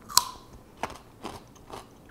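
Crisp crackers being bitten and crunched up close, a sharp first bite followed by three softer crunching chews spaced about half a second apart, with no talking.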